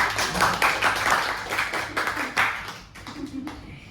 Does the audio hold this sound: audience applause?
yes